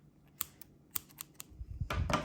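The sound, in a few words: scissors cutting off crochet yarn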